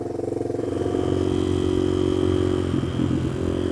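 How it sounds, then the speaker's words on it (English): A Suzuki DR200 dual-sport motorcycle with a small single-cylinder engine idles with a close, loud, chugging putter, then revs up as it rides off, its steady buzzing note rising and holding. "Pretty good sounding little bike."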